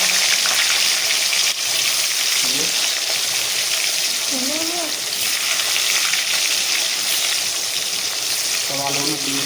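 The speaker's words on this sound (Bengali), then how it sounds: "ফাইনালি আবার আলুগুলো একটু ভেজে নিচ্ছি মাংসের জন্য।" Potatoes fry in hot oil for a chicken curry, a steady, loud close sizzle throughout, with occasional faint scrapes of stirring beneath the hiss.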